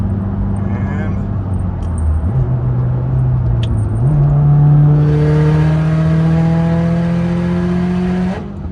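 A Subaru STI accelerating hard under turbo boost, the engine note climbing loudly through rising revs with a gear change partway, then a sustained high-pitched whine and rush before the throttle lifts.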